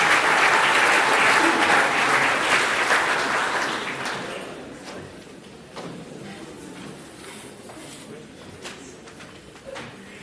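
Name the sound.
applause for award winners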